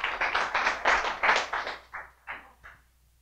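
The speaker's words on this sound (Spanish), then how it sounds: "Muy bien, aplauso para ella." A small audience at a sales and mental-training seminar gives a short round of applause, several bursts of clapping that thin out into a few separate claps before stopping.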